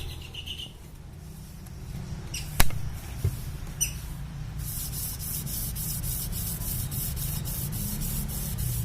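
Rhythmic rasping strokes of 400-grit sandpaper on a raffia string polishing a Honda Civic Genio engine crankshaft, quick and steady, with a few faint clicks and knocks before the scraping settles in.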